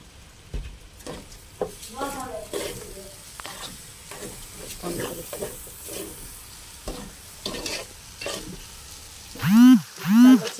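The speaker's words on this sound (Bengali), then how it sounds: "ভালো করে ভেজে নিব, না ভেজলে ধান বের হবে না।" Something fries in a pan while being stirred, with soft sizzling broken by scraping and clattering strokes, a voice now and then, and a short pair of loud tonal calls, like cooing, near the end.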